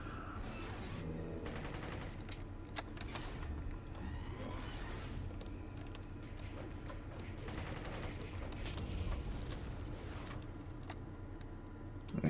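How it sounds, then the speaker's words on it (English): Explosion in General Z video game combat, dense and loud: a steady roar of gunfire-like blasts and crackling bursts fills the whole stretch, with a sharper burst near the end. "An explosion to the face for my hubris."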